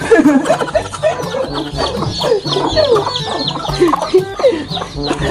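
A flock of chickens clucking close by, short overlapping clucks and murmurs repeating steadily, loud and busy, with no one speaking.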